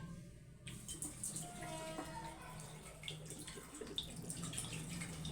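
Water is poured into a pot of fish with turmeric and coarse salt for fish pulusu, a soft, steady trickle and splash that carries on for several seconds at low volume.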